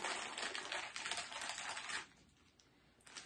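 A bag of Warheads sour taffy is ripped open up close, giving a burst of crinkly plastic tearing for about two seconds before it falls quiet, with a last rustle at the end.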